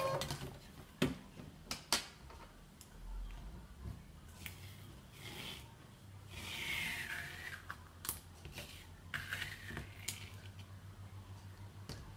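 A ScanNCut cutting machine unloads its cutting mat with soft motor whirring, clicks and ticks and a sliding mechanical rasp, quiet and close, with no talking.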